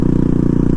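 A Honda CRF450RL dirt bike with a flashed ECU idles close by, its single-cylinder engine putting out a steady, low, even pulsing thump with no revving.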